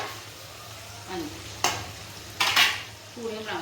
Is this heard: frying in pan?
yes